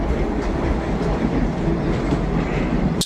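A train runs along a railway line in Uganda, a loud, continuous rumbling roar with wheel clatter, close by and unbroken until it cuts off at the end.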